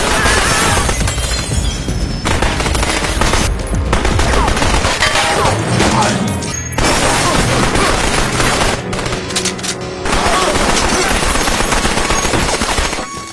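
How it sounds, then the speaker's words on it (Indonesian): Gunfire in a film scene with two armed robbers, loud dense bursts of rapid shots mixed with shattering and impacts, a brief lull partway through before the barrage resumes, with some voices faintly underneath. "Dia menembak tanpa melihat dan mengenai bahu belakang Washington"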